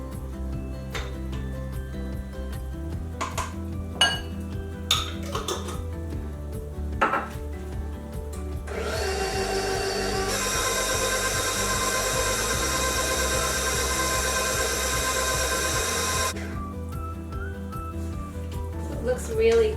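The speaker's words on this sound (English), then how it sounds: "I'm just going to make sure everything is mixed well before I take it off the mixer." An electric mixer whirs through blueberry Belgian waffle batter for about eight seconds, a steady loud drone, with scattered clinks and knocks of bowls and utensils before and after.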